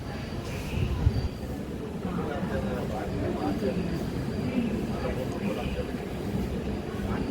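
A DEMU local train runs steadily after pulling out of Medchal railway station, giving a continuous rumbling roll of wheels on track with faint rhythmic clatter, heard from inside the coach.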